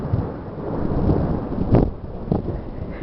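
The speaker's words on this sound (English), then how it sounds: "First thunderstorm of 2016 and it ain't even spring yet." Thunder rumbles through a January thunderstorm, low rolling booms over steady rain and wind noise, with two louder cracks near the middle and end.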